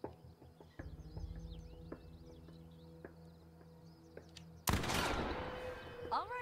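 Gunshots aimed at a bottle in The Quarry, fired as a run of faint, evenly spaced pops over a quiet outdoor background with birdsong, then a louder, close blast near the end.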